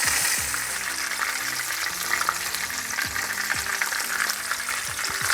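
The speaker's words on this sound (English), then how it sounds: "And we'll fry all the kebabs like this." Mutton kebabs frying in a pan give a steady, loud sizzle with crackling oil throughout, punctuated by a few low thumps as pieces are handled.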